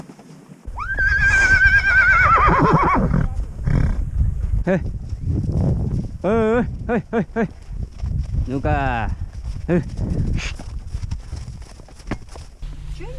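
Horses on a horse farm whinny loudly, with one long neigh near the start and several shorter ones later, amid clopping hooves and farm movement, while people talk nearby.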